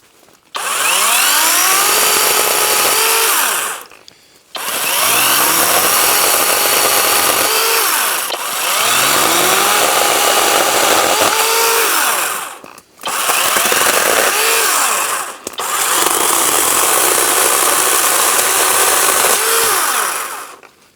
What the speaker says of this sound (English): we're going to start out by doing some pruning on these branches that have fallen down